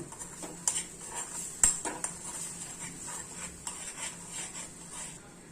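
A spoon stirring ingredients in a kadhai, scraping and clinking metal against metal at close range, with a few sharper knocks early on and softer rhythmic scrapes afterward, no speech.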